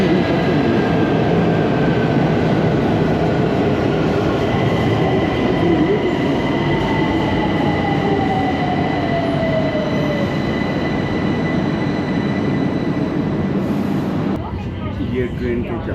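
A Tehran metro train runs underground, giving a steady loud rumble with thin, drawn-out wheel squeals rising and falling, and the noise shifts abruptly near the end; speech is heard beneath it.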